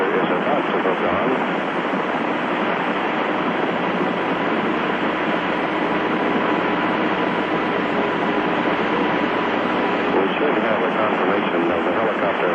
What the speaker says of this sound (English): The helicopter is about to hook on.